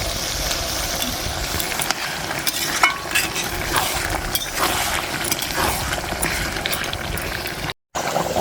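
Meat and potatoes simmer in a pan with added water. A steady bubbling sizzle runs throughout, with occasional stirring scrapes and clinks, moderately close and without speech.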